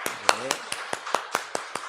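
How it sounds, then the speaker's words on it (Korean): Steady rhythmic clapping, crisp and evenly spaced, at a Sunday morning church service, with a brief voice heard near the start. "우리 박수로 환영하겠습니다"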